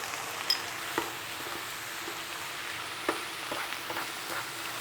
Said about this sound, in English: Just stirring this around, we can turn off the heat.